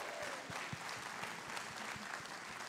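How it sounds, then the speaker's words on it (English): Concert audience applauding steadily at a music heroes event, dense continuous clapping at moderate level with a few sharper claps standing out, no talk over it. "can I get another round of applause"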